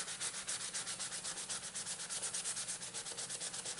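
Steady back-and-forth rasp of a 150-grit sanding block worked over a walnut knife handle with brass fittings, a quick regular rhythm of strokes, close and fairly quiet, with no talking.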